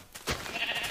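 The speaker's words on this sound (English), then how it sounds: "That's a shitload of sheep." Sheep bleating in a video game, one close, loud bleat that rises quickly and trails off within a second.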